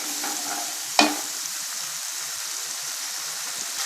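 Gobi manchurian sauce with chilli sauce stir-fries in a pan, a soft continuous hiss broken by one sharp utensil clack near the start, then steady quiet sizzling.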